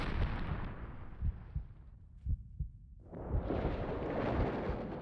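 An explosion in the visual novel game Chaos;Head Noah, a dense roaring blast with a low rumble and scattered heavy thuds that briefly thins out and then surges back loud.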